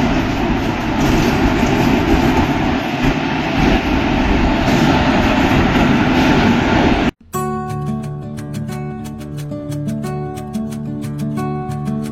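A train hauled by a WAP4 electric locomotive runs with a loud, steady rumble and rattle. After a sharp break, the sound cuts to a different, more tonal stretch with a regular clatter.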